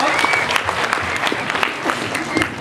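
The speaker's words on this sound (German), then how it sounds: "dann bitte ich mal einen Applaus für die Teilnehmer vom heutigen Nachmittag." Audience clapping for the contestants at an afternoon elimination round of a talent contest, a dense steady patter of many hands from a modest crowd, continuous for a few seconds.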